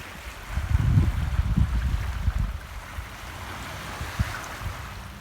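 Water by the Seattle waterfront laps and washes in uneven low surges, strongest early on, mixed with light wind rumble and distant outdoor ambience.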